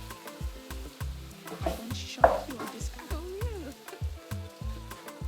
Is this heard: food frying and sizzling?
yes